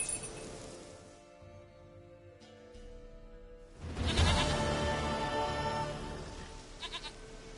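A goat bleats in The Witcher 3 video game, a drawn-out, wavering cry that rises clearly over quiet in-game ambience, with a few faint clinks near the end.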